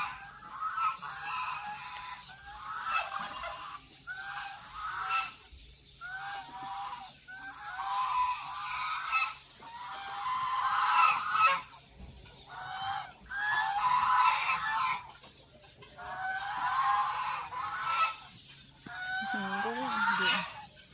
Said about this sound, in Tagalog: ayan po ang mga gansa